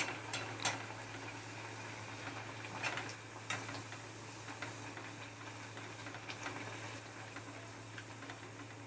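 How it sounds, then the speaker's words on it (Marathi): Chicken vada, Malvani-style, frying in hot oil with a steady, quiet sizzling hiss and a few faint pops and crackles, continuous throughout. "तेल गरम झालं आहे मी तेलामध्ये वडा सोडून घेते"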